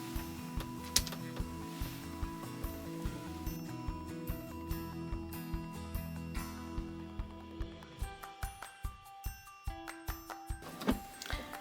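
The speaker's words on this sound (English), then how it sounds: "I definitely don't want to stitch over my pins." Sewing machine stitching a cloth napkin with a mitered corner, a soft steady mechanical hum at low level that turns into a run of separate ticking stitches toward the end.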